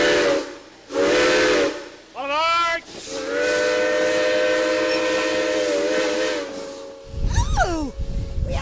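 A steam train sounds its steam whistle in several long, loud blasts with breaks between them, then a sweeping whistle, over hissing steam and rumbling rail noise that swells at the end.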